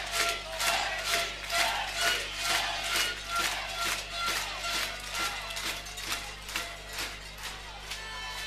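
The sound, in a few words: rugby stadium crowd of Saint-Giron fans cheering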